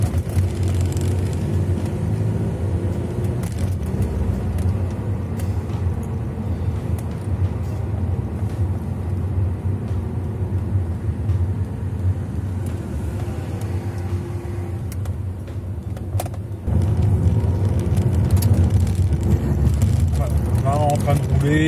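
Audi car driving through town at 50-60 km/h, heard from inside as a steady low road and engine rumble with someone talking over it throughout.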